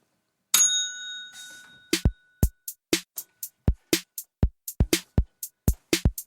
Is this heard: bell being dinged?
yes